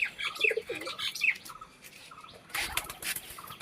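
Teddy pigeons, a Pakistani breed, calling in a loft, with bright chirps and short calls scattered throughout and a burst of flapping wings near the end, fairly close and moderately quiet.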